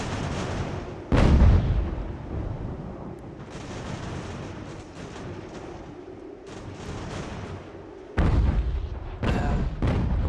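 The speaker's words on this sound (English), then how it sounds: "just mortars are demolishing their morale" Mortar and artillery fire in the battlefield strategy game Ultimate General: American Revolution, with heavy booms at about one second and again near eight seconds over a continuous rumbling battle backdrop.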